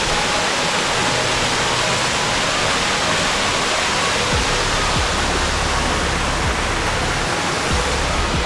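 Kethenhalli Falls near Bangalore roars as a steady, loud, dense wash of falling water, unbroken and close throughout with faint low thumps underneath.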